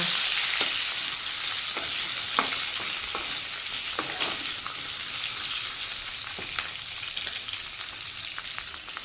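Large prawns fry in hot oil with a steady close sizzle, punctuated by sharp ticks and spatters as they are turned, alone without voices.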